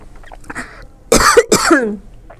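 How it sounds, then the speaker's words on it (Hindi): Two harsh, loud coughs in quick succession, close by, after a few faint throat noises. "मेरे को बहुत ज़्यादा खांसी हो रही है"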